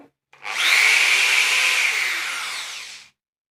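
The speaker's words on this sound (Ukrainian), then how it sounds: "Давайте вімкнемо, послухаємо, як він буде працювати." Intertool WT-0104 corded electric drill-driver, 420 W, switched on and run alone at close range: a quick spin-up into a steady high whine lasting about two and a half seconds, then a clean stop.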